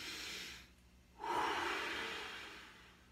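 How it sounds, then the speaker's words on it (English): A deep belly breath during a desk stretch exercise, with a soft close inhale followed by a long, louder airy exhale that gradually fades. "You want to do 10 big belly breaths"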